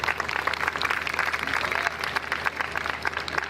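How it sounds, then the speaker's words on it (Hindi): A church congregation at a Friday healing service applauds to welcome the senior pastor, with dense, steady clapping from a large crowd that carries through the whole stretch, loud and close, with no distinct speech over it. "जोरदार तालियों से वेलकम करेंगे"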